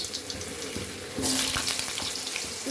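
Potatoes tipped into hot oil already crackling with panch phoron, setting off a sudden loud hissing sizzle that rises sharply partway through and keeps going close by.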